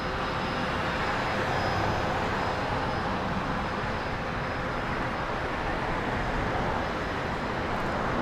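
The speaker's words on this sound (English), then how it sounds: "It is that Dassault Falcon 2000 we saw earlier." Dassault Falcon 2000 business jet heard on the ground at an island airport, a continuous broadband engine roar with a faint high whine, steady and moderately distant, no voices.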